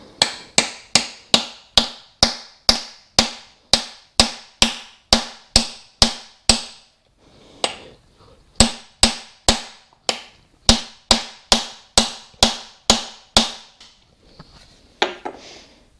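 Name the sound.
tapping a Welsh plug into a Classic Mini engine block with a socket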